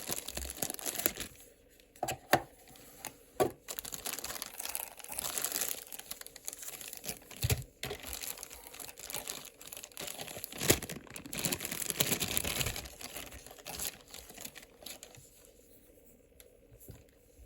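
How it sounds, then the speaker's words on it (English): Cellophane wrapping is pulled and crinkled inside a Fossil watch box with a cardboard sleeve, giving irregular close crackles and rustles with occasional sharper taps, tapering off to quiet at the end. "The watch itself is housed on a simple cardboard sock with the sort of cellophane wrapped inside."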